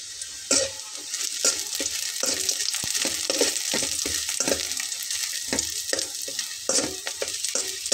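Onion with dried red chillies sizzling in hot oil in a pan for a potol bhorta, steady hiss broken by repeated knocks and scrapes of stirring, close and clear, without talk.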